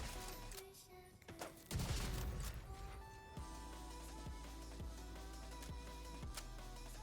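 Rifle fire in The Division 2 on tier 5 difficulty, a series of sharp shots in an irregular rhythm, with one heavier burst early and several evenly spaced cracks later.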